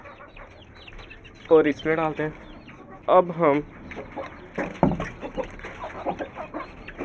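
Aseel chickens cluck and fuss while feeding, their short calls mixed in under someone talking nearby.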